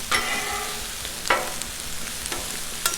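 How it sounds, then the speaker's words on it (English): Butter and oil sizzle on a Blackstone griddle as a continuous close crackle, with a few sharp scraping stirs of a spatula over it. "Got a little butter, a little oil in that."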